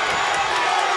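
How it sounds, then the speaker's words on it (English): Crowd at a lightweight boxing match cheering loudly and steadily through one second, a dense roar with whoops as a fighter lands a flurry against the ropes in round 3. "Listen to this crowd too."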